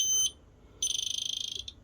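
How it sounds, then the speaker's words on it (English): An industrial light stack buzzer sounds in two bursts, a short high-pitched electronic tone followed by a longer rapidly pulsing one, close and clear with no talking. "So purple we've already established is just the buzzer."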